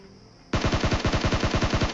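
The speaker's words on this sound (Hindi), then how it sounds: "अब ये वाले बंदे पे मैंने जैसे फायर किया" Video game gunfire as a player shoots at an opponent who is carrying loot: a steady, rapid automatic burst of loud, close shots that starts abruptly and continues without a break.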